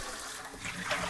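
Water running from a tap into a large canning pot for a water bath, a brief steady rushing pour, close and moderately loud.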